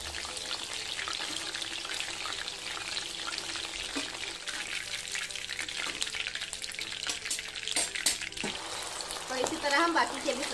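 Chicken pieces frying in oil over a low-medium flame, a steady dense sizzle that runs continuously and close throughout, with occasional faint scrapes and bubbling pops.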